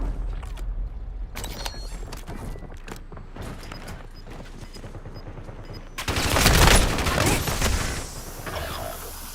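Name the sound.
gunfire in Black Ops 6 Warzone video game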